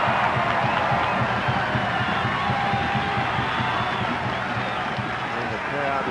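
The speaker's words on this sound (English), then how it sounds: "here the home fans starting to make the noise that players want, the players need" A home football crowd at a Newcastle United versus Olympic Sharks finals match roars steadily while a corner is taken, a dense, continuous wash of noise beneath a commentator talking throughout.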